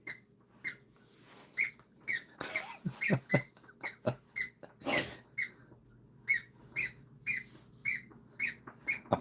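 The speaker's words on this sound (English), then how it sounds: "The dog has found his squeaky toy." A dog squeezing a squeaky toy, giving sharp, high squeaks in irregular bursts, sometimes in quick pairs, loud and close against a quiet indoor room with no talking.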